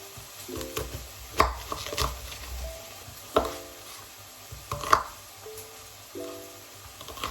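Tomato and onion cut on a board, with a few close, separate knife knocks and slicing sounds spaced a second or two apart over a quiet background.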